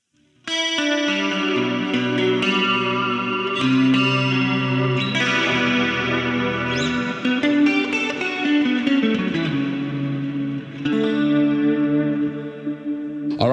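Clean electric guitar played straight from its pickups through a Quad Cortex preset, chiming chords and single notes ringing out with chorus shimmer and light echo, loud and close, with no voices.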